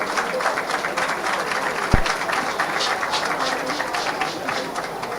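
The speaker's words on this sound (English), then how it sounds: "Can you please give them a round of applause?" Audience applause for project committee members at a live event, a steady sustained patter of clapping from a crowd with one sharp louder knock partway through.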